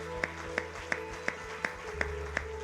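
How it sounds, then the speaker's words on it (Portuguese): Clapping in a church service comes as sharp, evenly spaced claps about three per second over sustained organ-like musical tones, fairly quiet overall. "aplauda o Senhor bem forte"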